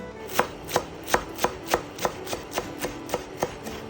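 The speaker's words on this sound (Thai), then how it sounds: "หั่นผักชีฝรั่ง" A knife chops parsley rhythmically on a cutting board, about a dozen crisp, evenly spaced strikes, close and clear, with no talking.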